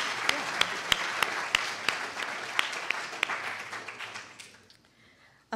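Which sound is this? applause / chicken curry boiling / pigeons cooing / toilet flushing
applause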